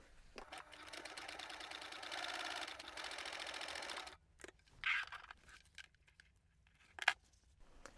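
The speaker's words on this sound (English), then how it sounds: "I'm going to top stitch along that edge" A sewing machine top stitches along the folded edge of a bag, running in one steady, rapid whirring burst of about four seconds, then stopping, followed by a few quiet clicks and handling sounds.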